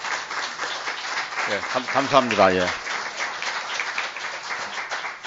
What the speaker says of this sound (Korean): 그래서 박수를 한번 해주고